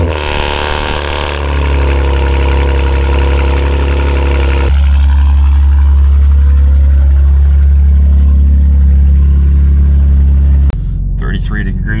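A straight-piped BMW G87 M2 engine in sport mode roars loudly up close with a deep, booming rumble, rising and holding, then cutting back abruptly near the end.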